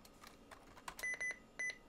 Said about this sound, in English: it just goes back to beeping